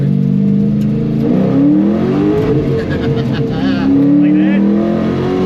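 A Chevy C10 race truck's engine revs hard and loud up close, pitch climbing and falling through repeated throttle pulls, with voices faintly underneath.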